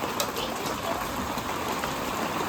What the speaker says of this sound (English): Hey, it's hailing.